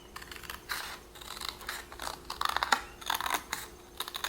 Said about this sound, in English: And then we're going to cut out the corrugated side at the top.